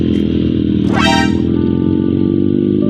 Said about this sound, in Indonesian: Ini kita jauhin dulu yang moge-moge berisik cuy.